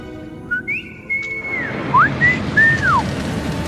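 Clear melodic whistling in Hogwarts Legacy, several rising and falling pitched phrases over a steady low background rumble, loud and close with no talking.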